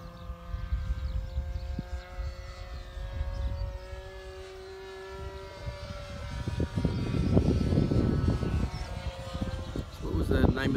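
A model airplane powered by an ASP40 engine flies overhead with a steady drone that swells as it passes nearer, and people talk over it.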